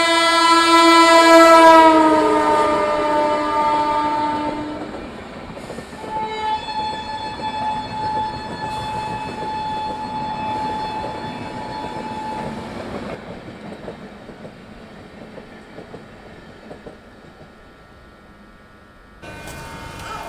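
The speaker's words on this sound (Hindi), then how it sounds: "सामने से आ रही है 12424 नई दिल्ली डिब्रूगढ़ राजधानी एक्सप्रेस" The 12424 New Delhi–Dibrugarh Rajdhani Express sounds a loud, sustained horn at the start, then rolls past with a steady rumble and rhythmic clatter of wheels over rail joints, ending in a brief burst of noise.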